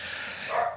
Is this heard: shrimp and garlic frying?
no